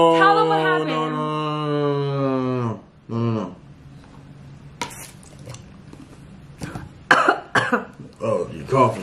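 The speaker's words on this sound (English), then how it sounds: "Oh, you're coughing." After a stretch of loud, voiced vocalizing, a person nearby gives a few sharp, harsh coughs in quick bursts, with light clatter and faint background noise between them.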